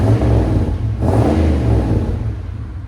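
A 1995 Chevy 1500 pickup's 5.7L V8 with a Magnaflow exhaust revs loud and close, the deep, rumbling, throaty drone swelling briefly and then holding steady.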